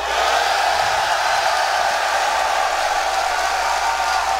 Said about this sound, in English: I want to know who in the crowd is cheering for Navi